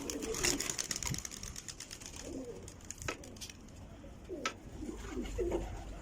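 Several pigeons coo on a rooftop, their low repeated burbles scattered through the clip amid wind and light clicks, fairly close but soft, with no talking.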